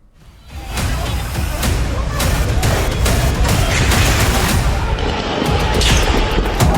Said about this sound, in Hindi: ताबड़तोड़ चलती गोलियां,